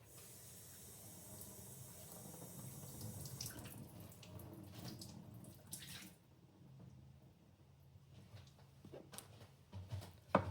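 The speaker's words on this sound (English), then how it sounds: "So then I'll wet it in the sink." Tap water runs into a sink while a coffee filter for a Hario V60 is wetted, giving a steady, faint hiss that changes as the stream hits the paper, then splashy trickles and a few small knocks.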